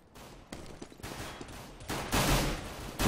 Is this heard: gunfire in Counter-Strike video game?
yes